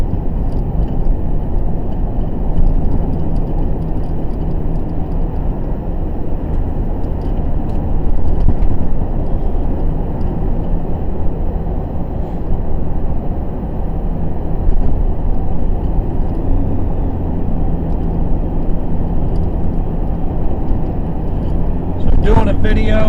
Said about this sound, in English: Doing a video of driving through Harding